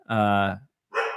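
Pet dog barking indoors during a live discussion show, two loud close barks in quick succession, the first longer and more drawn out.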